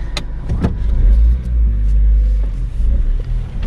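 A car's engine rumbles loudly and up close as the car is driven out, with a deep steady drone and a couple of sharp knocks at the start.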